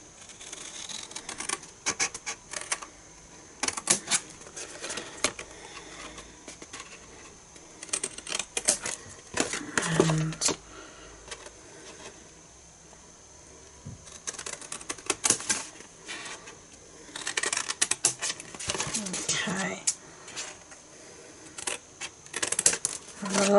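Scissors snip paper for a triangle-shaped Christmas gift box in a long series of close, crisp cuts in uneven bursts, with brief pauses between them.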